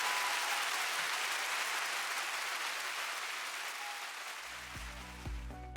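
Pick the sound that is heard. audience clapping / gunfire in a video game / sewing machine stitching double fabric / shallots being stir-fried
audience clapping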